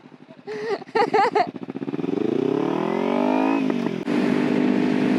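Motorcycles ride out to chase hot-air balloons at a balloon fiesta, one engine revving up and rising steadily in pitch as it pulls away, then a louder engine roar takes over. Brief sounds come early on.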